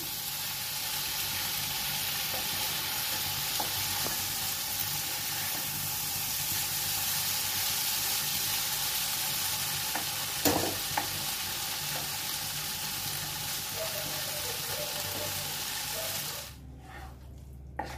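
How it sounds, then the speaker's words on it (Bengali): Okra fries with spices in a pan, making a steady, close sizzle that runs for most of the clip. A brief stirring scrape comes partway through, and the frying drops away abruptly near the end. "জাস্ট এখন এই মশলাটার সাথে একটু কষতে দেবো এটাকে।"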